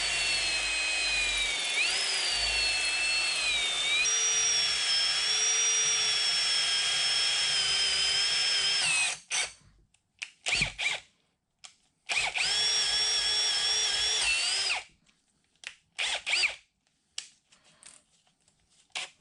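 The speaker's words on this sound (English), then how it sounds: "I've got a little bit of a larger drill now, and we'll try coming in from the other side this time." A larger power drill bores into the apron of a 1960 South Bend lathe from the other side, a loud close whine running steadily, then cutting off and restarting in short bursts with pauses.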